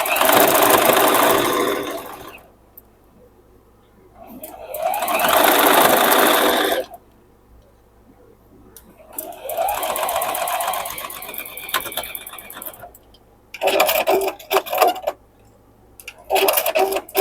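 A sewing machine stitches quilt blocks in several loud, sustained bursts of rapid whirring, each lasting a few seconds and separated by quiet pauses.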